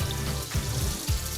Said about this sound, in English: It's sizzling the way we want.